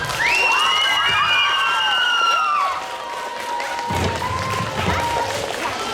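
Cheering and applause from an audience at a dance award ceremony for young dancers aged 12 to 14. High whistles and shouts ring out loudly at first, then ease into steadier crowd clapping and cheering.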